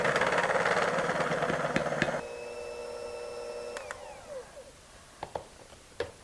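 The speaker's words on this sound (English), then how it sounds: "we're going to bring over our electric hand mixer. We're going to beat this until soft peaks form." An electric hand mixer whirs loudly as it beats cream toward soft peaks, then drops to a lower, steadier hum and shuts off, followed by a few light taps.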